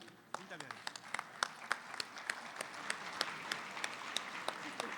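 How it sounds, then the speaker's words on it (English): Audience applause after a live calligraphy performance, a moderate round of clapping with distinct sharp individual claps over a softer crowd wash, moderately distant, with a voice heard faintly underneath. "big round of applause for Ms."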